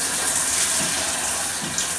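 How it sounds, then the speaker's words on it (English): A shower head rinsing limescale descaler gel off a shower enclosure, a loud steady rush of spraying water pouring close by, continuous with no talk. "So now I'm just going to wash it down with the shower"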